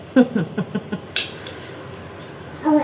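Cutlery scraping and tapping on a plate while cutting through an egg dish: several short, close clicks in a quick rhythm, a bright clink, then a brief louder scrape at the end.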